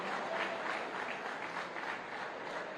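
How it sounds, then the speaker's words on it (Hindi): An audience applauds at the inauguration of a cancer unit at Medanta Hospital in Lucknow. The clapping is steady, dense and fairly soft, as if heard from a distance, with no voices over it. "आप सब एक बार जोरदार तालियां हो जाएं।"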